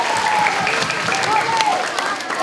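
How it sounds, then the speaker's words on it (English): Students at a school assembly for Music In Our Schools Week give the music teachers a loud, continuous round of applause, with crowd voices and cheers mixed in. "how about we give one more round of applause to all the music teachers"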